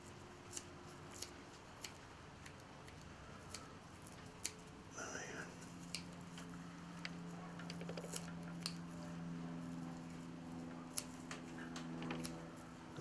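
Scissors snip repeatedly while trimming foam on a floating perch fry fly at a tying bench: sharp, faint, close clicks at irregular intervals over quiet room tone, with a soft hum joining midway.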